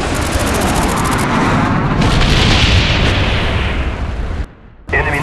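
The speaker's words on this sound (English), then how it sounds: "Enemy naval strike inbound." Incoming naval strike in a video game: a dense, roaring wall of explosions and rumbling blasts, loud and sustained for several seconds, then a sudden brief drop before it resumes.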